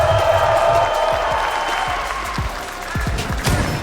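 Live crowd at a Rainbow Six esports major tournament in Atlanta applauding and cheering, a dense wash of clapping with scattered shouts, fairly close and full, fading slightly mid-way then swelling again, with a faint voice underneath.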